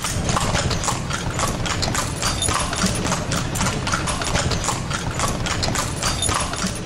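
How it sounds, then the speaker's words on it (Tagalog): Hooves of a horse pulling a kalesa carriage clip-clop on a Manila street in a quick, steady rhythm. The clopping is loud and close over a constant wash of street noise. "natatangi sa kalsada ng Maynila ang itsura at galaw ng kalesa na banayad na naglalakbay at naghahatid ng mga pasahero"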